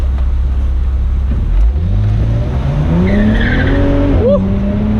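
A 2008 BMW 135i E82 convertible launches with wheel spin: the engine revs loudly and climbs in pitch while the tires squeal and skid, up close and dominant.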